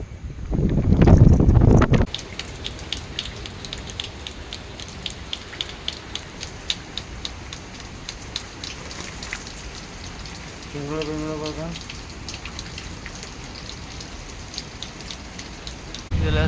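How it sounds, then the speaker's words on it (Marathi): Steady patter of first-of-season night rain falling on a surface, with a brief loud gust at the start and faint intermittent tapping and a short tonal squeak midway. "आता पाऊस झाला आहे चालू"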